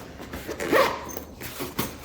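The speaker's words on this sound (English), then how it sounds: "Then we do this second zipper." A zipper runs along a small compressible clothes sack in one quick close pull, followed by a few faint fabric rustles and clicks.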